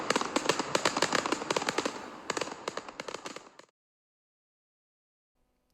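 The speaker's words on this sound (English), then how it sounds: "So it's time for fireworks because Nottingham Forest have won a game." Fireworks set off to celebrate a Nottingham Forest football win crackle in a rapid, dense volley of sharp bangs for about three and a half seconds, then stop abruptly into silence.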